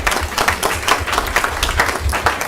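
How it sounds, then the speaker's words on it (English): Round of applause from a city council meeting audience honoring students and a Citizen of the Month, steady dense clapping throughout at moderate distance with no voices over it. "Let's give the students and April one more round of applause."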